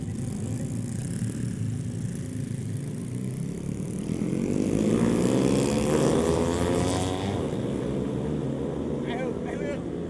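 A motorcycle engine revs up during a speed run, with a Vespa scooter nearby on the road, its drone climbing and then easing off across several seconds, riders talking intermittently over the steady wind and road noise.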